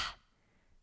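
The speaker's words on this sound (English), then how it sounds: "panting like a dog" Open-mouthed panting breath during a kundalini yoga breathing exercise: a single short, breathy exhale burst, close and soft, followed by near silence.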